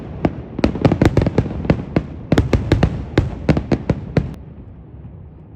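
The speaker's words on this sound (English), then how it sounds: "We arrived in Plymouth in time for its annual 2-day fireworks festival." Fireworks at an annual festival in Plymouth burst in a rapid, irregular string of sharp cracks and pops, loud and continuous, then fade out near the end.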